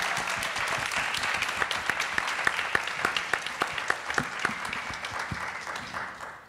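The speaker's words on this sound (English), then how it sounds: "give it a clap up for folks. Clap it up." An audience at a Climate Week environmental justice event claps for community organizers, a steady, moderately dense round of applause with distinct individual claps standing out, fading away at the end.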